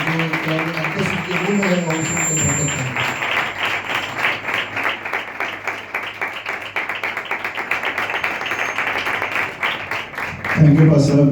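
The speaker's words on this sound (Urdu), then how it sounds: "سو آئے خدا کے خادم کو زوردار تالیوں سے ویلکم کرتے ہیں" A church prayer-meeting crowd gives loud, sustained applause welcoming a preacher, a dense roar of clapping lasting several seconds, with speech briefly heard at the start and end.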